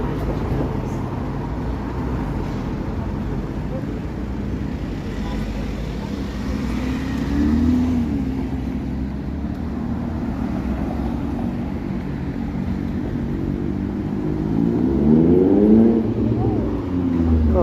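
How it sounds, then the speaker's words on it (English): Busy city street traffic on St. Clair Avenue in Toronto, cars and buses rumbling past close by with engines swelling and fading, a steady roadway roar under occasional talk. "So much traffic here."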